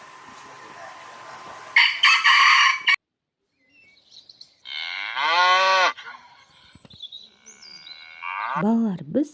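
A cow moos, followed by a rooster crowing with its long rising and falling call, then a second crow starting at the end; clear and close, with no talking.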